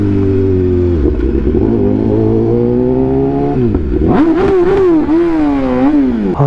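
A BMW S1000R supernaked motorcycle engine, almost brand new, idles with a loud, rough, steady tone and then revs up to mid RPM in a few swelling, wavering pulls, close and dominant.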